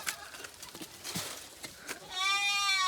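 Background noise and faint movement give way to a loud goat bleat near the end, a wavering cry close to the listener.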